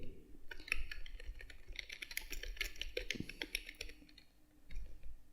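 Typing on a computer keyboard while writing HTML code, a steady run of soft, close key clicks with brief pauses and no talk.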